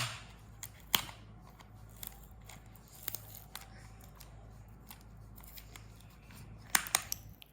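Scissors snip into a delivery box of ordered tops in a quiet home, giving a few sharp, faint cuts and crinkles spread across a soft background.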